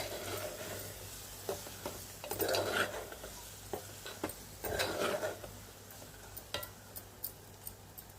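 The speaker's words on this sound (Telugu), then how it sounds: "మళ్ళీ ఇలా కలుపుకుందామండి కూర అనేది." Onion and drumstick curry with egg is stirred in a pan, producing a few scraping swishes and light metallic clinks of a spoon against the pan over a faint low sizzle.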